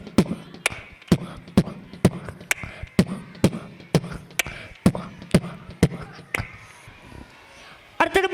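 A human voice mimics a daf frame drum, producing about fifteen sharp, evenly spaced thumping beats at a brisk steady pace, close and alone. The beats pause briefly near the end before resuming.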